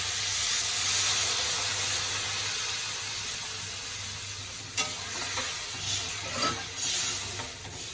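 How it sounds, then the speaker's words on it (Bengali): Water poured into a hot pan of spiced vegetables hisses and sizzles loudly and steadily, with steam rising and a few stirring scrapes near the end, without any voices. "এখন আমি জল দিয়ে দেবো।"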